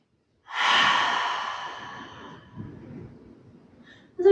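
A single long, deep exhale during a yoga breathing exercise, a soft airy rush that starts strongly and slowly fades over a few seconds, close and alone, followed by a brief faint sound at the end.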